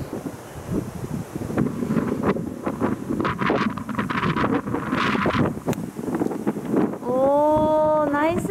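Steady wind gusting across an open golf course, a broad continuous rush that buffets the microphone and swells and eases throughout, with a faint tonal whine rising near the end.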